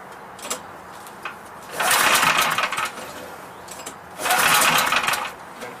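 Portable generator being converted to run on natural gas, pulled to start with the choke partly on: two bursts of a rough, raspy engine sputter roughly two seconds each, separated by quieter pauses, with no speech.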